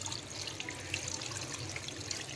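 Water pours into a pot of beef trotters seasoned with turmeric and salt, a steady splashing, gurgling stream close by, continuous for the short stretch, with no talk.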